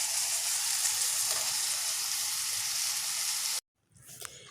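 A hilsa fish head frying in a pan gives a loud, steady hiss of sizzling oil up close, which cuts off abruptly near the end, leaving faint kitchen sounds.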